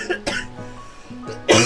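A man's sharp cough during a live game stream, a few short bursts with a louder final cough, close to the microphone.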